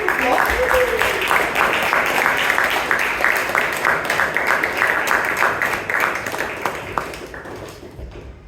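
A round of applause from the audience at a Toastmasters club meeting in Bangalore, dense steady clapping that stays loud and even throughout before tapering slightly at the end.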